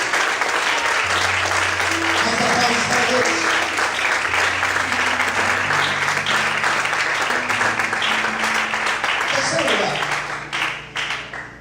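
Loud, sustained applause from a large crowd, with music and voices underneath, fading out near the end.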